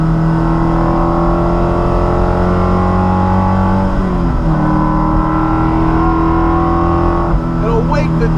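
A Coyote V8 engine swapped into a Porsche Cayman, 425 wheel horsepower, runs close and loud with a steady rumble, its pitch dipping and climbing briefly as the throttle is blipped, and a voice is heard over it.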